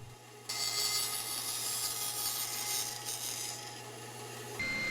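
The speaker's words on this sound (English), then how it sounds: "I take the pieces over to the bandsaw, removing the waste" Bandsaw slicing through wooden pieces for a Moxon vise, a steady rasping cut over the machine's constant low motor hum, close and continuous, with no talking.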